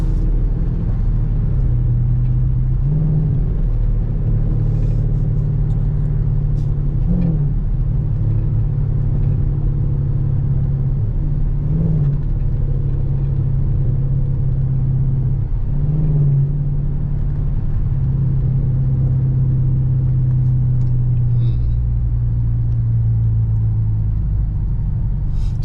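A Dodge Charger R/T rumbles steadily while driving through a city at night, a deep, continuous low growl with slight swells in throttle and no talking.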